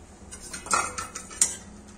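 Metal spoon scraping and clinking against a pan while raw coconut paste curry is mixed, a few sharp scrapes and taps over a soft background, close by.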